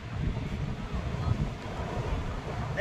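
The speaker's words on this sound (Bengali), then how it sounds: "পুরীর সমুদ্রের আওয়াজটাই তো মেন, এই আওয়াজটা।" Big waves roll in at the sea at Puri beach on a full-moon day, a brief, steady surging wash with wind buffeting the microphone.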